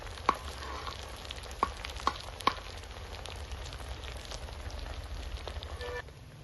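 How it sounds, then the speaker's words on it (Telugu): Masala paste fries in a pan with a soft, constant sizzle, broken by a few sharp clicks like a spoon striking the pan early on, fairly quiet and with no talk. "ఇవన్నీ పేస్ట్ కూడా వేగిపోతుంది"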